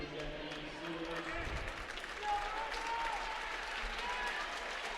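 Spectators at a girls high school basketball sectional championship give a short burst of applause in a gym, clapping swelling briefly under an announcer's voice and other crowd noise.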